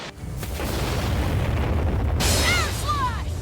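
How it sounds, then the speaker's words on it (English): Rock bullet shrapnel detonation attack from Infinity Strash: Dragon Quest erupting in a loud, sustained booming blast with a dense rumble, followed by sweeping whooshes as the explosion continues. "Rock bullet shrapnel detonation!"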